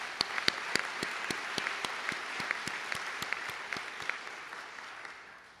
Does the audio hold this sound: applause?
yes